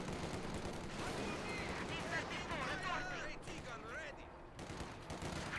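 Gunfire and shots in a Company of Heroes 2 battle between Wehrmacht and Soviet forces, with T-54 tanks nearby: a dense, continuous clatter of shots and impacts under an excited commentator's voice.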